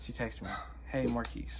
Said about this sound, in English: Sorry for the dogs in the background